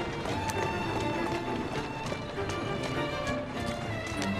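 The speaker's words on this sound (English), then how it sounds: "Who's a good horse?" A horse's hooves clip-clop steadily on a street in Assassin's Creed Syndicate, a continuous quick rhythmic clatter of hoofbeats close by, running alone and evenly throughout.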